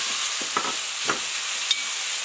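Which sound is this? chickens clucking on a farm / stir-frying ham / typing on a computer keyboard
stir-frying ham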